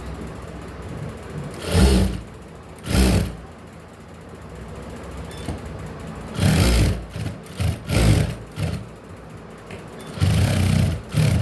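Several loud, close bursts of a sewing machine's rattling mechanism as it double-stitches a blouse, short runs broken by brief pauses and one longer stretch near the end.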